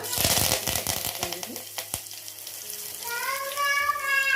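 Cumin and pepper hit a hot pan for moong dal sambar, giving a sharp burst of sizzling and clatter at first that settles into a steady frying hiss, with a brief whistle-like tone near the end.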